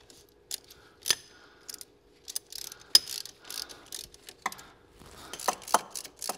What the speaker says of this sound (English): But now I have to torque these bolts on the strut back on.